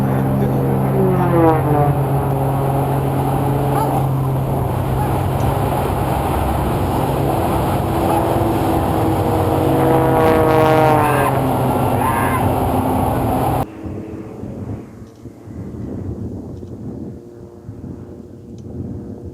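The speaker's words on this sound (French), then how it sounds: "Il utilise toute la puissance de son avion" Aerobatic military airplane flying stunt figures with its engine at full power, a loud sustained drone whose pitch rises and falls as it maneuvers, then cutting off abruptly, leaving quieter, duller background noise.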